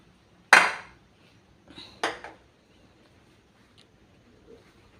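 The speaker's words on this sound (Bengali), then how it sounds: "ফ্রাইং প্যানটা বসিয়ে দেবো" A frying pan is set down on a gas stove with a sharp metallic clank, followed by a softer scrape and a second knock, then quiet kitchen background.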